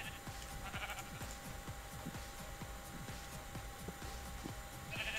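Sheep in the Minecraft video game bleat repeatedly in short, rhythmic calls, fairly faint amid ambient game sounds.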